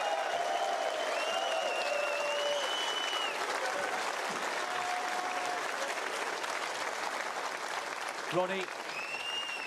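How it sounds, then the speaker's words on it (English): A snooker crowd at the Tour Championship final applauds Ronnie O'Sullivan and Mark Williams, a steady dense wash of clapping lasting throughout, with a presenter's voice speaking over it. "may we have another round of applause for 2 of our sport's all-time"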